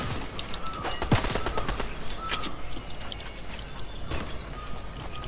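Video game gunfire coming from a beach, a scatter of sharp shots and short bursts over a constant noisy background.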